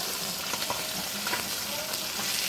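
Delicate fish frying in a home kitchen pan, a steady close sizzle with scattered crackles and light spatter pops throughout.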